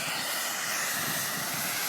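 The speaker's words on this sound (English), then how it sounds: "You can see a very angry steam jet." Angry volcanic steam jet on Mt Sibayak, Sumatra, giving a continuous loud roaring hiss with a low rumble underneath, steady throughout.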